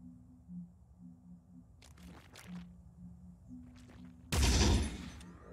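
A loud burst of gunfire erupts late in a turn of the video game Phoenix Point, following quieter clicks and soft game tones.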